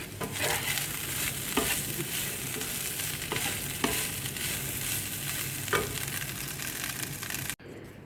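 Chicken Mughlai paratha frying in plenty of oil, a steady close sizzle broken by occasional spatula clicks and scrapes, ending abruptly just before the close.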